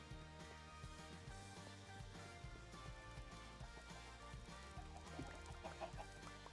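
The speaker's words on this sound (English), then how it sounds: "Good chickens." Minecraft chickens cluck repeatedly in a busy game scene, short choppy clucks scattered over a dense layer of background music and game noise, fairly quiet overall with no talking.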